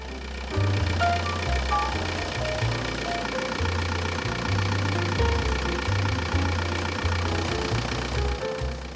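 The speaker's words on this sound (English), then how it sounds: "start the engine" A diesel engine idles steadily with a knocking, chugging rhythm, loud and close, running without a break while both pipes sit submerged in cleaning fluid.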